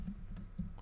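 Short burst of rapid keystrokes on a computer keyboard, close and quiet, with a steady low hum behind it.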